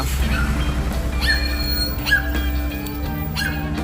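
A small dog whimpers and yips in short high-pitched bursts, repeating every second or so over a steady low rumble of background noise.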